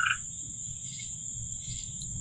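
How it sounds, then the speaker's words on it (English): Crickets chirp steadily outdoors at night with a constant high trill, joined by intermittent frog calls swelling and fading against low background rumble; no voices. "There's some frogs out here. I hear crickets."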